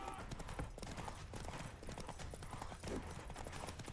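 Roach, Geralt's horse in The Witcher 3: Wild Hunt, trotting in the Skellige isles, a steady rhythmic clip-clop of hooves that is fairly close and continuous under the game's ambient background.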